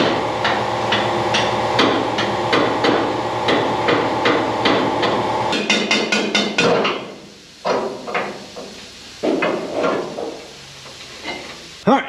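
Sharp metal hammer blows knock a pin out of a hydraulic ram on a mini truck bed, first a rapid steady run of strikes over a low hum, then a pause and several louder, spaced clanging hits near the mic.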